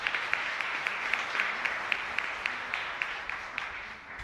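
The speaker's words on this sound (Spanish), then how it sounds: "Vamos a darle un fuerte aplauso." Steady applause from a congregation at a Catholic Mass, a dense, even wash of clapping with a few sharper claps standing out at regular intervals.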